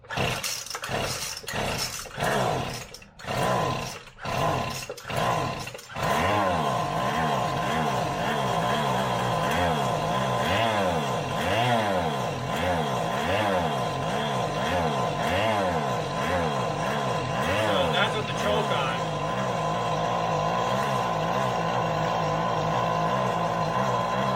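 A weed eater's two-stroke engine is pulled several times, then runs rough on choke, its pitch surging up and down in a wavering rhythm, and finally sputters out near the end.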